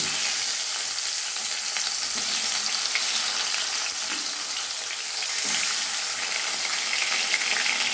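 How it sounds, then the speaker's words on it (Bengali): Koi fish fry in hot oil in a wok, giving a loud, dense, continuous sizzle with small spattering pops throughout and no talking. "মাছ ভাজার জন্য এবার মাছগুলো দিয়ে"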